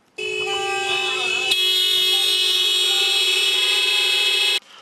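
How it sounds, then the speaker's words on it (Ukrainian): Drivers at a parking-corruption protest outside the Kyivtransparkservice building in Kyiv lean on their car horns, several loud near horns blaring together in one long unbroken chord that starts abruptly and cuts off after a few seconds. "Автомобілісти громадської ініціативи Європейські парковки Європейські столиці символічно натиснули на клаксони біля стін Київтранспарксервісу."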